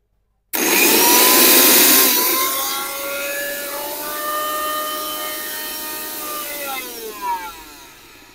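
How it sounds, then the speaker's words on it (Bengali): A Bajaj blender grinds spices with a loud, close motor whine that starts abruptly, settles into a steady drone with shifting pitch, then slows down near the end with no voices. "তারপরে ঝাড়টা দিয়ে আপনি এই ব্লেন্ডারটা দিবেন"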